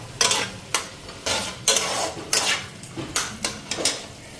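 Ingredients frying in a pan while a spoon scrapes and stirs, for shahi paneer after turmeric and a splash of water go in; a steady soft sizzle with about ten close, rhythmic scraping strokes, no voices.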